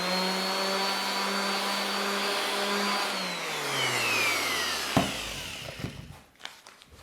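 A power sander or similar shop tool whirs steadily on a wood filler patch in a woodworking shop, its pitch slowly dropping as it winds down, followed by a few knocks and handling clatters.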